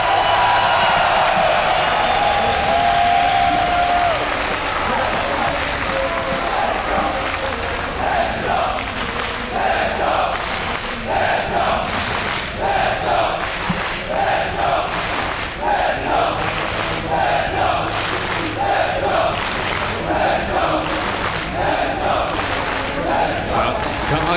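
A large esports crowd at a StarCraft 2 match at IEM Katowice cheers and chants in rhythmic waves, with repeated rising bursts of noise over a long stretch and voices mixed in.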